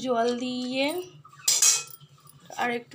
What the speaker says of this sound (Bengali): সয়াবিন আলু ভালো করে নেড়ে নিয়ে